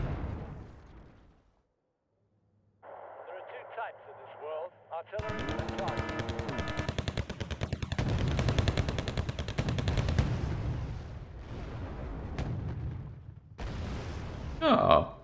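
Gunfire in the video game Wargame Red Dragon, bursts of rapid machine-gun fire with heavy booming impacts, dense and loud for several seconds after a quiet stretch, with someone talking over parts of it.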